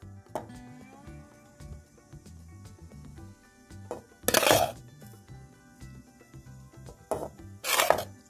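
Spoonfuls of homemade tapioca batter go into an ungreased frying pan, with light metal clinks and two short, louder scraping bursts against the pan, over soft background music.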